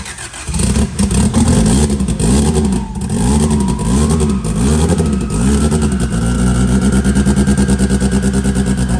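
A motorcycle engine with a mechanical fuel pump cranks, catches and fires up, then revs in repeated loud rising and falling bursts before settling into a steady close idle, with no talk.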